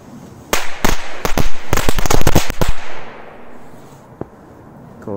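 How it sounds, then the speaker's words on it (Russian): A firecracker machine-gun belt set off outdoors near a tree, a loud rapid string of sharp cracking pops lasting a couple of seconds, then fading echo and one last lone pop. "Обожаю пулеметные ленты. Буду летом часто их взрывать."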